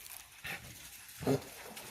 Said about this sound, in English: I promise that's dogs running and playing